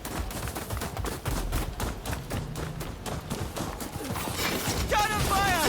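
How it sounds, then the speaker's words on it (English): Cannon fire in Rise of the Ronin on PS5 comes as a rapid series of sharp, crackling blasts in dense bursts. Near the end, whistling tones trail off. "Cannon fire! Take cover!"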